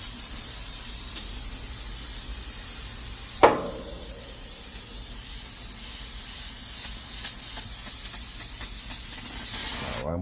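Water sprays steadily over an AC condenser coil to rinse it, a soft, even hiss throughout with one sharp knock partway through.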